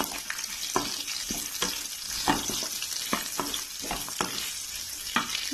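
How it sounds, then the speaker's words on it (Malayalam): Onions are stirred into stir-fried tapioca (kappa ularthiyathu) in a hot pan, with a steady close sizzle broken by regular scraping spatula strokes. "നമുക്കിതിലേക്ക് സവോള ചേർത്ത് കൊടുക്കണം. ഇത് നന്നായിട്ട് ഇളക്കി കൊടുക്കാം."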